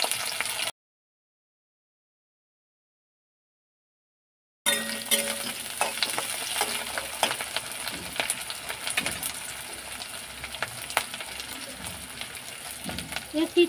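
Garlic and diced onions crackling and sizzling in hot mustard oil for a prawn dish, a steady close broadband frying hiss after a brief silence, with scattered clinks and stirring scrapes.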